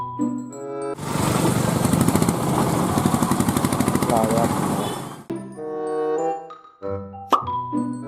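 Toy Indian auto rickshaw giving off a loud, buzzy electronic engine rattle with a fast pulsing chug for about four seconds, followed by short toy chimes and beeps.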